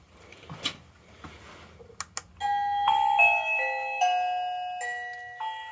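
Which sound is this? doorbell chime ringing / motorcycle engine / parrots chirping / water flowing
doorbell chime ringing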